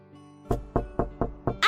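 Five firm knocks on a door in a steady, evenly spaced rhythm, close and fairly loud, following a brief quiet lead-in.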